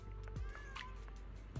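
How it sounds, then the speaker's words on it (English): Cats meow in the Zenless Zone Zero video game, a few short, faint cries over a quiet steady background, with soft footsteps nearby and no talking. "Oh, hey, cats."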